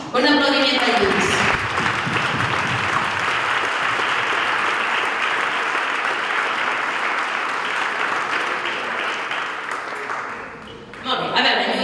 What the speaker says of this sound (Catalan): Lluís, un aplaudiment per Lluís.